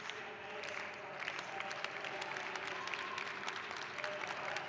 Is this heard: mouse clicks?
no